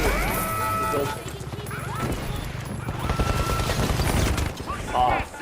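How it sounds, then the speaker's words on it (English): Gunfire rattles and crashes through a match of the video game The Finals, dense and continuous, with someone talking loudly over the shooting. "I barely can hear you with the gunfire"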